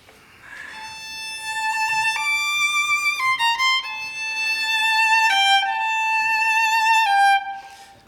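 A solo violin plays a sustained melodic phrase from a sonata, each note swelling gradually in volume toward the end of the bar, with no voices.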